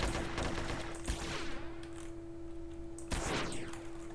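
Desert Eagle pistol fire in the multiplayer game SA-MP, a couple of sharp shots spaced a couple of seconds apart over a steady electronic hum, no voices.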